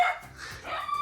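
A dog barks and yips a few times in quick bursts, close by, at a secluded cabin in the Romanian woods.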